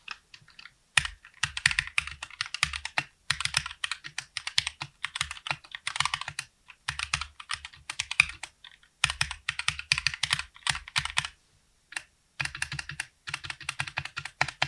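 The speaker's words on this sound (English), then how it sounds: "some of the scratchiness and sharp clacking still remains." Rapid clacky typing on a wooden custom mechanical keyboard, the Keyboard Lab Timber, close and crisp, slightly scratchy, in bursts of keystrokes separated by brief pauses.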